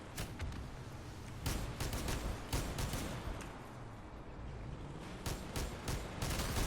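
Cannon and shotgun fire in the vehicle combat video game Crossout comes in repeated sharp blasts and bursts over a dense, continuous roar of battle noise, fairly faint overall, with no speech.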